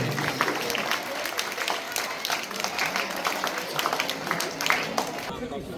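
Audience applause at a Gulposhi ceremony for society members, teachers and parents, a steady wash of clapping hands with a crowd murmur running throughout.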